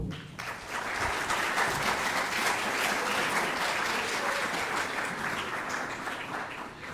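An audience at a forum on pesticides in Guatemala applauds, a sustained, even wash of many hands clapping that lasts several seconds and fades slightly at the end.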